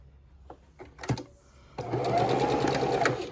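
A few handling clicks and taps come first, then a sewing machine starts and runs steadily, stitching quilt rows of half square triangle blocks with a close, even mechanical whir.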